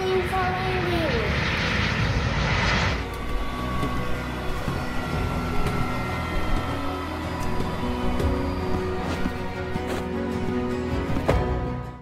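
A small airplane comes in to land, its engine starting with a falling whine and settling into a steady droning hum with repeated ticking pulses, fairly close and prominent throughout.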